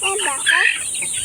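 Chickens cluck continuously and close up during the separating of small chicks from larger ones, with a steady busy chatter of calls and a constant hiss of background noise.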